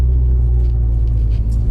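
A Mitsubishi Evo X with an SST gearbox and just under 180,000 km cruising off boost, a loud, steady low engine drone with a smooth, even tone and no voices.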